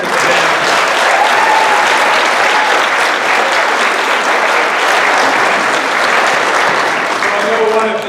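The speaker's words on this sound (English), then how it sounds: "Can I get a round of applause for our second graders today?" Steady, loud applause from an audience at a school event honoring second graders, continuous dense clapping that holds at full strength for the whole stretch without any talk over it.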